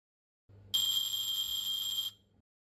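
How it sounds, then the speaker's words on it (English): Hotel room doorbell from a KNX room display gives a single bright electronic ring lasting about a second and a half, clear and close over a faint low hum. "the doorbell will become audible."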